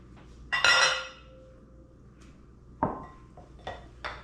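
Steak tips tipped into a bowl in a home kitchen, giving a loud clattering clink near the start and a few lighter knocks of utensils against dishes afterward.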